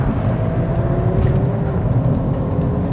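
A Volvo S60 Polestar sliding into oversteer and accelerating on snow, its engine holding a steady loud drone with rising whirring tones, close and continuous without speech.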